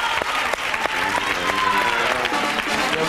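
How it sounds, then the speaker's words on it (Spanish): A concert audience claps loudly and steadily with a dense, continuous roar of hands and some rhythmic claps, while a voice sounds faintly within it. "un aplauso para ustedes."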